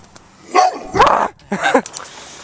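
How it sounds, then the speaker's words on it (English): A dog gives three or four sharp, close barks in quick succession, loud and alone with brief pauses between them. "what's up with dogs and barking at us today?"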